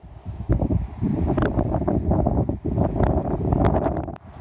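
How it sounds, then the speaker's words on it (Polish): Strong wind buffets the microphone in loud, rumbling gusts, with rustling beneath and brief lulls between blasts. "wiatr jest dzisiaj niesamowity."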